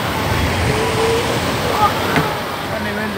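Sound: floodwater rushing through street during storm

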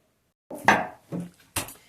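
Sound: knife slicing raw meat

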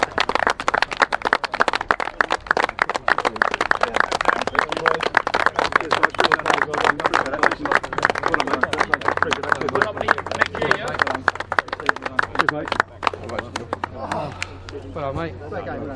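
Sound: players clapping off the champions after football match

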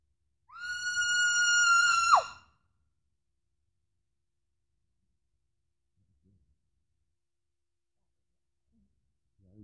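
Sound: person imitating a scream as a call

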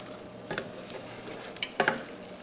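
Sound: stirring sausage and peppers with beef or vegetable stock

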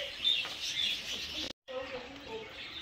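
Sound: small birds chirping

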